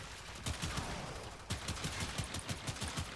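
Rapid bursts of gunfire from the Akjagara Prime secondary weapon in Warframe, loud and continuous for the whole stretch with dense repeated shots and a sharp surge midway, no voices over it.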